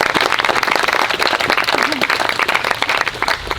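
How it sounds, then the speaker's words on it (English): A wedding ceremony crowd breaks into steady applause, many hands clapping together for a few seconds, loud and close, with scattered voices underneath. "I think we got to give that one a round of applause."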